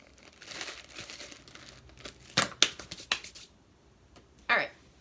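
Plastic bag crinkling around makeup packaging, a series of sharp close crackles and rustles in bursts, with a final crinkle after a short pause.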